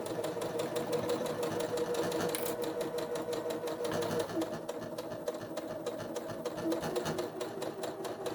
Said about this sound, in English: I'm going to start to sew.